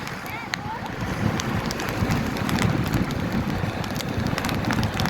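First monsoon rain falling in Mahuva: a dense, even patter with crackly drops and occasional sharper hits carries on throughout, with voices faintly mixed in.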